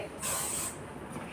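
A single short burst of hair spray hisses onto styled, back-combed hair, lasting about half a second, close and fairly loud against a quiet room.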